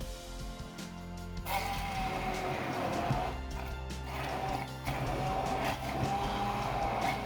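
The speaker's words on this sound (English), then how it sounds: "Just put them in a blending cup and turn them into a paste." A blending cup whirs continuously, pureeing chili peppers into a paste. The motor drones loudly and steadily close by, with its pitch shifting slightly as the contents churn.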